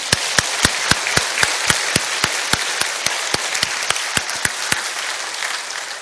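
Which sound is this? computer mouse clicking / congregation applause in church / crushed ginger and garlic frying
congregation applause in church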